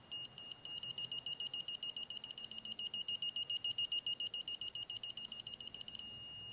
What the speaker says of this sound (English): When it beeps slow, that means you need to go up.